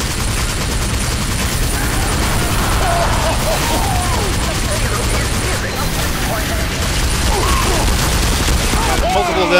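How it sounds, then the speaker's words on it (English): Gunfire in the video game Team Fortress 2, a dense, continuous barrage of rapid shots and bursts with booms, loud throughout with voices talking over the battle. "Keep the guns going."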